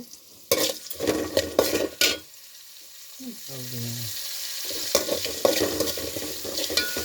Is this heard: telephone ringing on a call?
no